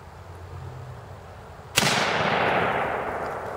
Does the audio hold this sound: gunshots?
yes